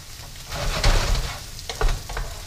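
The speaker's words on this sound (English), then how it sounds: "now wait for the garlic and ginger and garlic to cook a little bit." Garlic and ginger sizzle in a pan alongside cooked tofu, a bright crackling fry with a couple of louder bursts as the pan is stirred, close and alone without any talking.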